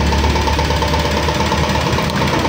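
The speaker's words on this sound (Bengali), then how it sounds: "ইঞ্জিনের সাউন্ডও আছে" A car engine runs steadily close by, a dense, even rumble with a faint knocking texture and no change in pace over a couple of seconds.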